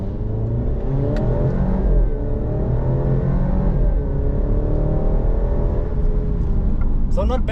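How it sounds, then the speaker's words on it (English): A 2023 Alfa Romeo Giulia Competizione engine revs and drops through downshifts, a steady throaty exhaust drone rising and falling, close and loud throughout. "it's still very beautiful exhaust note. I hope you can hear that on the camera."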